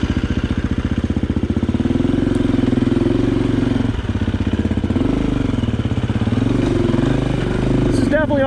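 KTM 350 EXC-F dual-sport dirt bike climbing switchbacks on the Carson Emigrant Trail in first gear, a steady close single-cylinder drone with rising and falling engine pitch, loud throughout with faint rider talk underneath.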